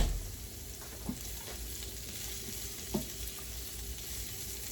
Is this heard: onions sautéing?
yes